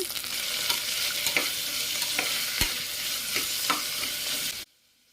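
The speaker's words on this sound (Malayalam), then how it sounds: "നമുക്ക് നല്ലതുപോലെ ഒന്ന് വഴറ്റിയെടുക്കാം" Onions, ginger, garlic, curry leaves and green chilli sauté for an egg curry, giving a loud, continuous frying hiss broken by occasional stirring clicks, then cutting off into silence.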